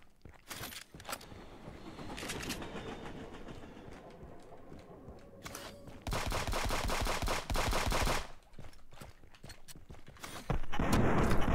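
Shotgun blasts and other gunfire ring out in the video game Friends vs Friends as rapid, loud bursts. They arrive in dense clusters over clattering, rumbling game noise.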